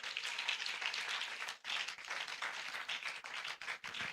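A church congregation claps together in a dense, sustained ripple of applause that briefly dips, then resumes just as full, heard at a moderate distance with no voices over it.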